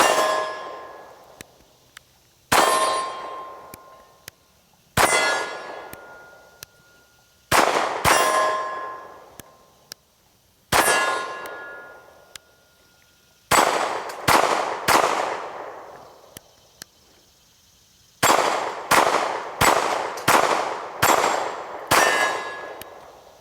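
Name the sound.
SAR 2000 pistol shooting, rounds hitting steel targets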